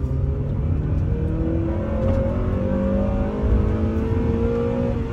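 A Honda Prelude Type SH, fifth generation, revving and accelerating from the cabin, with a steady loud engine drone whose pitch climbs smoothly through the gears under constant road rumble, no talking.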